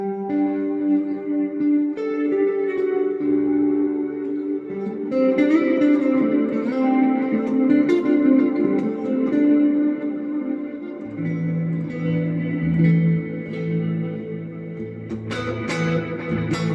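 A Monoprice Indio Retro Classic electric guitar on its neck pickup plays notes and chords through a Cosmic Echo delay effect, each phrase trailing into repeating echoes and a reverberant wash. It is clear and prominent throughout.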